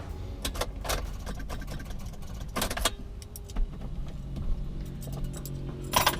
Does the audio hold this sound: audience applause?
no